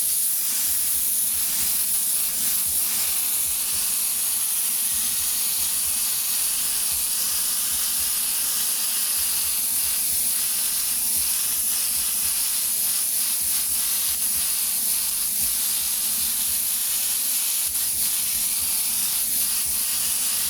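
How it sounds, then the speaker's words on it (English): An airbrush laying down blue paint in a wide spray over white, a steady unbroken hiss that runs the whole time with faint low rumbling beneath it. "we're going to go right over top with a nice wide spray over top of this white."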